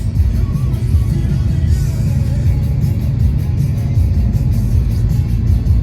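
A car moving at speed on the road, with a steady, loud engine rumble and road roar filling the whole stretch without a break.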